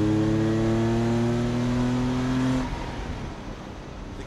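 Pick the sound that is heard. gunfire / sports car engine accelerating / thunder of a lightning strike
sports car engine accelerating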